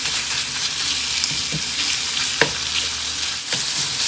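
Sausage sizzles in a pan while being broken up for sausage gravy, a constant close frying hiss with a few soft clicks and scrapes from the utensil, no voices.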